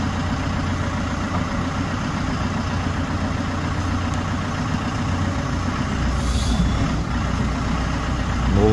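A heavy diesel engine, a used replacement in an XCMG backhoe loader, idles steadily nearby, a continuous low rumble with a faint whine, unchanging for several seconds.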